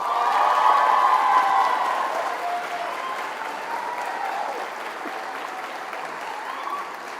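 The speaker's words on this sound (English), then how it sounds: "we'll all cheer really loud for Darren Johnson DeAugustine" At a physical therapy pinning ceremony, an audience applauds and cheers loudly for a graduate, with whoops and calls over the clapping at first, then steady applause that gradually softens.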